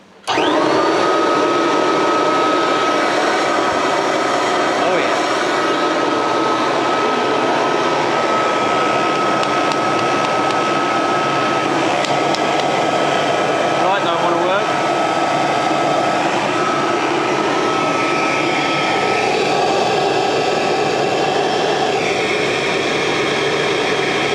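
A restored 1979 Kirby Tradition upright vacuum cleaner runs steadily and loudly at close range, its motor whine holding an even pitch for the whole stretch with no talking over it.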